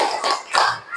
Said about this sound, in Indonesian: Beri dulu tepuk salut untuk Ila.